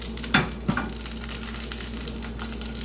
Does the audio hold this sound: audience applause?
no